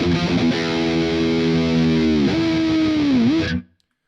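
Electric guitar played through the Amp 1 Iridium amp simulator, heavily distorted, with thick sustained notes and a pitch bend near the end, loud and steady before cutting off abruptly into silence.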